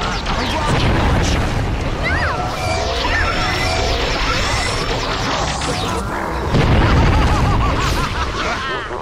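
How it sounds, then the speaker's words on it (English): A rocket launch blast in the Toy Story 3 video game, with booming, crashing explosions and swooshing whooshes layered over busy game effects and music, loud and dense throughout. "A rocket launch."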